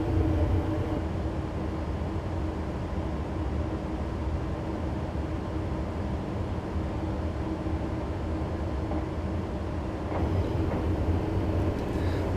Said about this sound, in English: I'm going to allow the train to coast now all of the way through to the end of the scenario here.